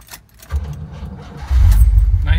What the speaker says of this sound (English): All right, let's go ahead and crank her up.